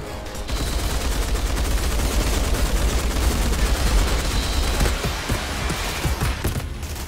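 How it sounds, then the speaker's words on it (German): Dense, continuous gunfire from the video game Outriders Worldslayer, a rapid loud barrage of shots that thins into separate cracks toward the end. "Irgendein Zipfi schießt auf mir, aber ich weiß nicht wo."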